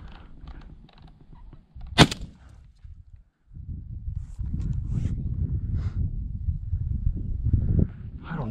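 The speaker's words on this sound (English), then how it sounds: "I'm gonna try to take a pretty long shot if he hasn't moved already." A single sharp shotgun blast is fired at a cottontail rabbit on open California public land, loud and abrupt, while quiet rustling and footsteps continue before and after.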